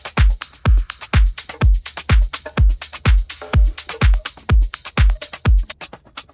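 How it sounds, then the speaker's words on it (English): A busy house-music drum loop from a second drop, with punchy kicks on a steady four-on-the-floor pulse, bright hi-hats and an added shuffle in the percussion, loud and alone. "And our drums from our second drop now sound like this."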